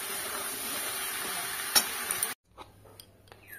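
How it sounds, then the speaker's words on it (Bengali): Ash gourd pieces sizzle steadily in a pan as they are stirred to cook off their water for a sweet preserve, a dense continuous hiss with one clink before it cuts to near quiet. "আমাকে বলেছে শুধু নাড়ো, নেড়ে নেড়ে জলটাকে শুকাও"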